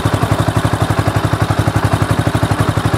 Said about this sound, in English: I think it's got a 750cc engine